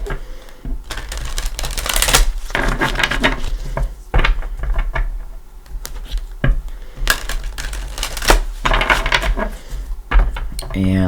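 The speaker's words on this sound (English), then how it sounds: "let's give it a couple shuffles" Tarot cards are riffled and shuffled in several bursts of crisp rapid flutter and slapping, with short pauses between rounds, close up.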